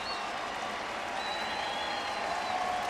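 A baseball stadium crowd at a Marlins–Cardinals game keeps up a steady roar of applause and cheering, dense and continuous throughout, with faint whistles riding above the wash.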